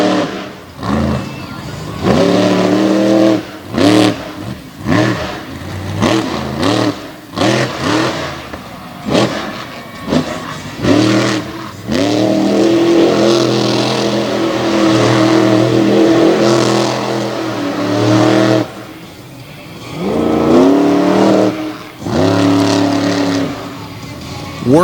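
Big Ford drag racing truck launching down the track at a Renegade MTT mud truck event in Greensburg, PA: a loud, sustained engine roar with surging revs and shifting pitch across the run, dominating the clip.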